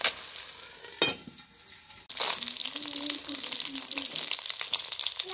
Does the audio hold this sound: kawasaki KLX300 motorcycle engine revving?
no